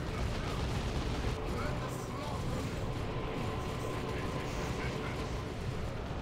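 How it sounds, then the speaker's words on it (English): Noise Marines firing Blast Master artillery in a Dawn of War II: Retribution 2v2 battle, a dense, continuous roar of booming blasts and gunfire mixed with battle noise and voices throughout. "Here we see some Noise Marines with the Blast Master, turns them into an artillery unit"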